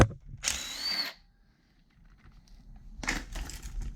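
A power tool, likely a drill, backs two bolts out of a scooter being disassembled: two whirring bursts, the first about half a second long and the second near the end, separated by a quiet pause.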